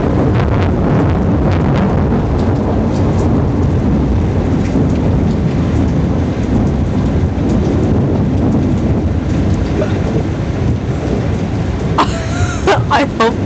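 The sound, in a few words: thunderstorm with thunder after lightning and rain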